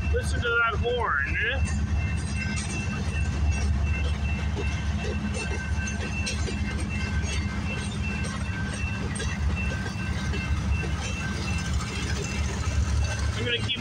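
CPKC 528, a freight train, rolls past close by in a steady, loud rumble of wagons and engine, with a brief higher tone near the start.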